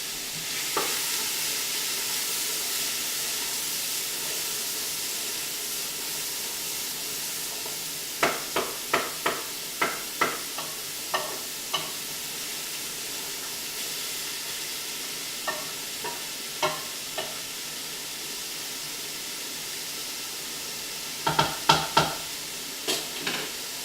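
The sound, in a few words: peas and vegetables sauteing in a pot for miso soup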